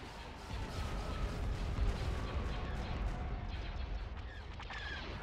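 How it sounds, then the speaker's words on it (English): Hypervelocity cannon fire in the Star Wars strategy game Thrawn's Revenge comes as a dense, rumbling barrage of booms and blasts layered with battle effects, moderately faint and continuous, with no voices. "Hypervelocity cannon firing."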